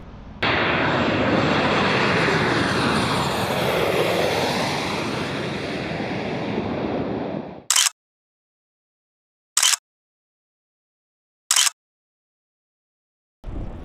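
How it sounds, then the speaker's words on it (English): A jet airplane roars loudly near Faro airport, a long swelling engine rumble that fades over about seven seconds, followed by a few brief sharp bursts. "The planes taking off and landing do not disturb"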